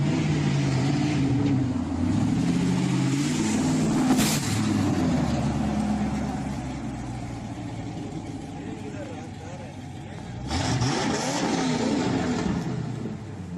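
A supercar capable of 348 mph roars as it accelerates, its engine rising and falling in pitch under a continuous loud rumble, with a second surge near the end and talking over much of it.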